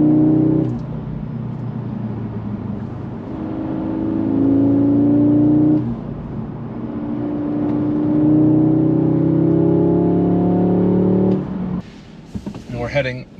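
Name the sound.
2022 Audi S3 accelerating and shifting gears on a mountain road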